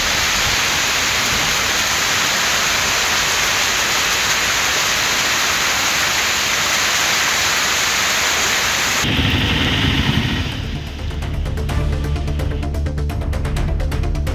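Steady heavy rain in Tamil Nadu, a loud broadband hiss that holds for about nine seconds before shifting abruptly to a rougher, crackling patter.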